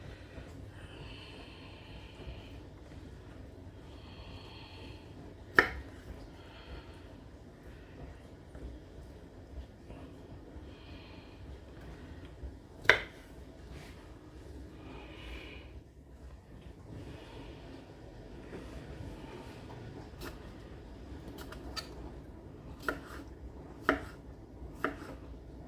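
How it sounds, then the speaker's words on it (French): A knife cutting cucumbers in half on a board for a tuna and samphire salad: a few sharp, isolated chops spaced seconds apart, then a quicker cluster near the end, over quiet kitchen background. "Hop, on les coupe juste en 2."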